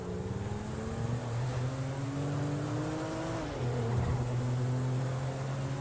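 A car in the game GTA drives with a steady, loud engine drone whose pitch rises and then drops as it shifts, continuous and close throughout.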